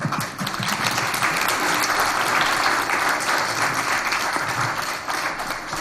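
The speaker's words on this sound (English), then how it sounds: "please give her a round of applause" Sustained applause from the crowd at a neighborhood planning public forum, an even roar of many hands clapping that fills the whole stretch with almost no speech.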